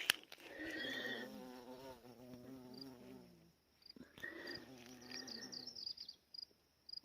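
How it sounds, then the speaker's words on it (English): A bumblebee buzzes close by around flowers in a national forest campsite, a steady droning hum that rises and falls as it moves, pausing briefly before buzzing again. "Right now I'm getting a bumblebee."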